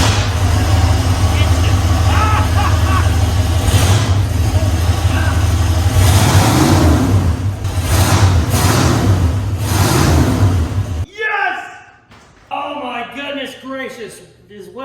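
A turbocharged 1971 Ford F100 engine cranks, catches and runs with loud rumbling revs, then cuts out abruptly before coming back, while people talk excitedly throughout.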